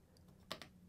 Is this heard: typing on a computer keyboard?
yes